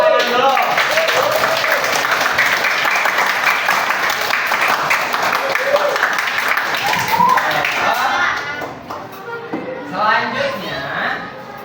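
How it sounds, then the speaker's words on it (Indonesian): A classroom of students clapping together, a brisk patter of many hands that holds steady, then thins out and tapers toward the end, with voices mixed in. "Tepuk tangan dulu."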